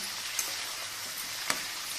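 Dry red chillies and turmeric sizzle in hot oil as a tempering for tomato pickle, a steady frying hiss with two brief crackling pops, close and moderately loud.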